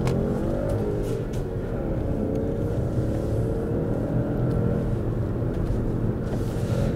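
A Jeep Renegade with a 1.0 T3 engine accelerates hard from a standstill toward 100 km/h, heard from inside as a steady engine drone with rising pitch and a constant road rumble underneath.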